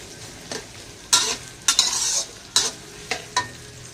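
Onions are stir-fried in a pan with a steady low sizzle under repeated loud scraping strokes of a spatula, about six sweeps in uneven rhythm, close by with no talking.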